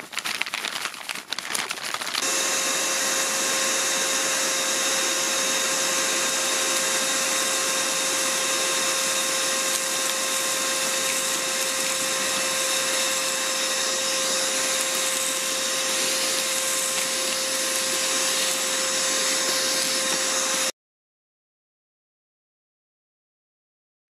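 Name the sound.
Lidl Parkside PNTSA 20-Li A1 cordless wet and dry vacuum cleaner running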